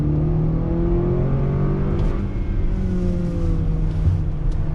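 A 2021 Acura RDX A-Spec engine revs hard under throttle from inside the cabin, a loud rising drone that briefly dips at a quick gear shift and then climbs again.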